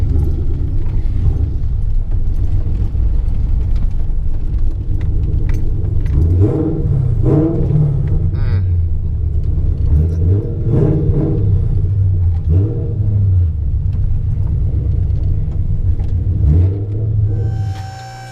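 A Ford Fox-body Mustang with a 351 Windsor V8 idles with a deep, lumpy rumble and blips its throttle several times, close by in a shop, with light metallic clinks over the engine.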